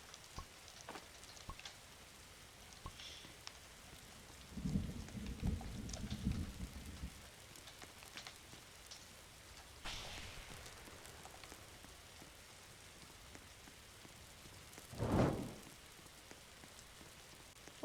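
A thunderstorm rolls through a Roblox forest survival game, 99 Nights in the Forest, over steady rain, with a long low rumble of thunder and a sharper crack of a lightning strike later on.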